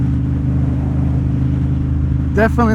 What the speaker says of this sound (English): exhaust tone that's coming out of that Termignoni exhaust is definitely